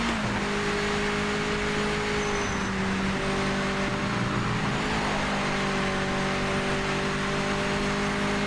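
Race car engine in the Project Motor Racing sim droning steadily at close range, with a brief dip and pitch shift near the middle as the gearbox shifts up into third, then holding a smooth, sustained tone.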